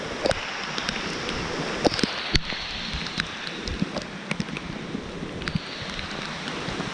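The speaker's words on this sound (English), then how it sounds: "I love the rain." Rain falling outdoors in a storm, a steady wash of hiss with scattered sharp drops and patters landing close by, fairly soft, with no talking.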